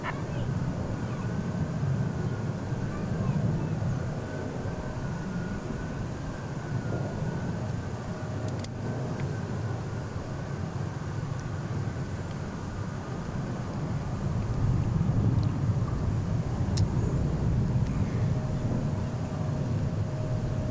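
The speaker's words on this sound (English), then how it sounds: "clear for takeoff 36 left Bravo on Boeing 4056" A Boeing airliner taking off from runway 36 Left at DFW International Airport, a broad continuous engine roar heard from a distance, steady throughout with a slight swell near the end, no talking.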